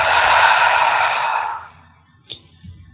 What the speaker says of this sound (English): inhale through the nose, holding it, and then exhale out the mouth